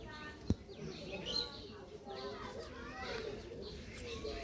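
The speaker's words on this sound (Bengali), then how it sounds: "ছোট ভাইয়ের শখের কবুতরের ঘর।" Pigeons in a backyard pigeon house coo softly and steadily, with occasional chirps mixed into a low, continuous ambient background.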